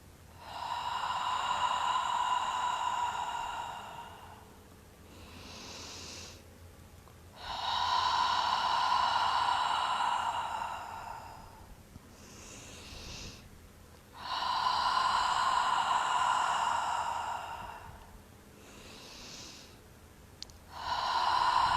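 Three long, forceful open-mouthed "ha" exhalations during a guided meditation breathing exercise, each lasting a few seconds and separated by quieter inhales, close and clear with no talking.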